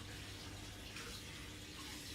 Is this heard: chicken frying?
no